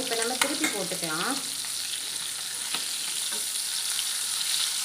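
Kavalai fish frying in a pan of oil makes a loud, continuous sizzle that runs throughout, with a brief voice-like whine near the start.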